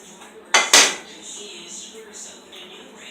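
A small metal omelet pan being cleaned out, two sharp clanks of a utensil against the pan close up, then quieter light scraping and clinks, with a faint room hum throughout.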